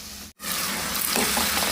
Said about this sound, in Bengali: মাঝে মাঝে এরকম নেড়ে রাখতে হবে যাতে না কড়ায় লেগে যায়।